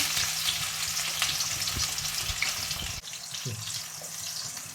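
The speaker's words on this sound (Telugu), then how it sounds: "ఆయిల్ హీట్ ఎక్కింది. ఇప్పుడు మనం దీంట్లో ఫస్ట్గా ఎర్రగడ్డలు వేసుకుంటున్నాము." Onions hit hot oil in a pan and sizzle steadily, a dense frying hiss that stays close throughout. Faint stirring knocks sound beneath it.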